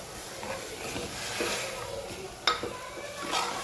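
Moong dal and rice for khichdi are stirred in a pan, a soft scraping and rustling with a faint sizzle and one sharp clink of a spoon against metal, close and quiet.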